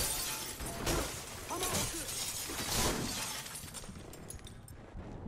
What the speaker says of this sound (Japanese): ガラス割っときますね。